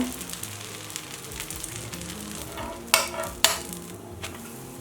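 A sponge dosa fries in ghee on a pan with a steady, close sizzle. Two sharp crackling bursts come near the end, with no voices.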